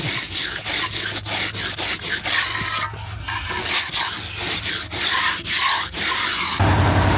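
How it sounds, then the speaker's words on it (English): Hard scrubbing across concrete steps, with a brush rasping in steady back-and-forth strokes, close and loud, and no voices. "Oh man, Luke and I were scrubbing"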